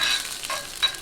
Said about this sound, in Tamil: கொஞ்சம் கடலைப்பருப்பு பொரியட்டும்.